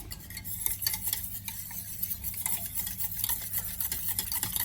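Eggs being whisked briskly in a bowl for Bombay French toast, a steady close clatter of the whisk or fork against the bowl with no voices.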